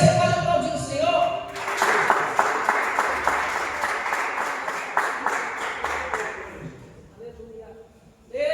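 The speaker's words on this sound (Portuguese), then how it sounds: "Você pode aplaudir o Senhor?" A church congregation applauds in a dense burst of clapping that swells after a brief spoken lead-in, holds for several seconds, then fades out as a voice returns.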